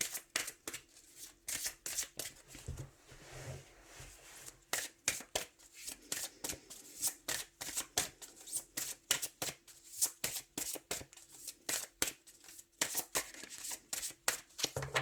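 Tarot cards being shuffled and cut by hand, a long series of quick riffling bursts in an uneven rhythm, close and fairly faint, with no talk.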